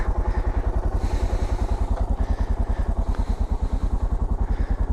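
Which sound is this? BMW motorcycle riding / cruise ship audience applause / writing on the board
BMW motorcycle riding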